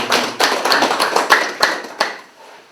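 A small audience at an academic conference claps for a presenter, a short burst of sharp, close hand claps in an uneven rhythm that thins out and stops.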